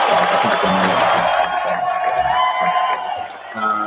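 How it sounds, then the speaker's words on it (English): A live audience claps and cheers at a cocktail-making show, loud crowd applause with scattered whoops filling the whole stretch and swelling again near the end. "Is the applause still going?"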